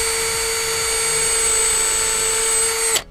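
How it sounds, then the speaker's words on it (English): Power drill boring a hole for stainless steel screws that are not self-tapping, a steady loud high whine held for about three seconds before it abruptly cuts off. "So we're gonna go ahead and drill."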